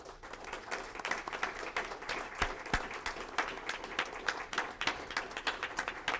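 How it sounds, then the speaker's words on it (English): Audience at a school board meeting applauding an honoree, a soft, somewhat distant round of clapping from a modest group, steady throughout. "Please join me in giving Mr. Ruben Macareno a round of applause."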